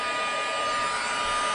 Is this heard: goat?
no